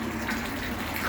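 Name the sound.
water filling a fish pond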